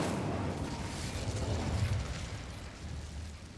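A fiery blast from the Incendio spell in Hogwarts Legacy whooshes and roars, a dense rumbling burst that stays loud and then slowly fades, with no talking over it.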